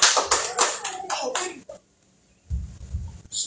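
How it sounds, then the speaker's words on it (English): A youth-night church congregation claps in praise, a quick burst of hand claps lasting about a second and a half. A short pause follows, then murmuring voices and low rumble. "let's give God a hand clap of praise."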